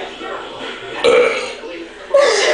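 Two loud, close burps erupt during a burping contest, each a sudden rough belch that holds for about a second, with a person's voice and noise around them.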